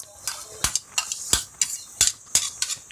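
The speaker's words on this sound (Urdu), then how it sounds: "ایڈ کرنے کے بعد ان کو اچھی طرح پھینٹنا ہے" A fork beats eggs mixed with chicken, vegetables, coriander, onion and tomato in a bowl, making a brisk rhythmic series of sharp clinks against the side, close and clear.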